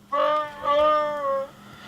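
A Wookiee roar sound effect played from an Adafruit sound FX board, with two drawn-out moaning calls in quick succession, loud and close, without talk.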